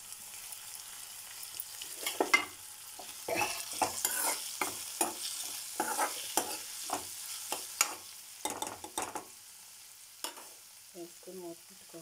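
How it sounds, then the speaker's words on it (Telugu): Tomato pieces frying in hot oil in a pan for an egg and drumstick stew, with steady sizzling and repeated spatula scrapes and stirring taps, fairly close, and no voices. "ఇప్పుడు ఇందులో టమాటా ముక్కలు వేసుకుందామండి."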